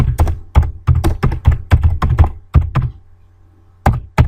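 Loud, close keystrokes thunk on a computer keyboard in a quick uneven burst of about a dozen presses, then a short pause and two more taps.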